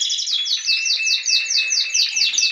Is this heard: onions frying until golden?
no